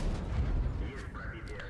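Soviet T-10 heavy tank's main gun firing in World of Tanks, one deep, boomy shot with a rumbling tail and a faint whine after it, quiet overall.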